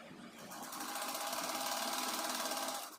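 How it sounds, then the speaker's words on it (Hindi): A sewing machine stitches strips of net fabric together for a small deity's dress, giving a close, steady, continuous mechanical whir that runs for about three seconds before stopping abruptly. "दोनों को हम सिलाई कर लेंगे"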